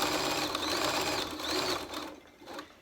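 A sewing machine set to a wide 5mm zigzag with 1.5mm stitch length runs steadily, overedging a cloth face mask's fabric edge, with a continuous close whirring buzz that eases off near the end.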